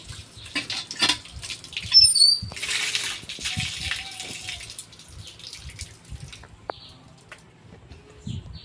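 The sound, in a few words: washing hands and face with water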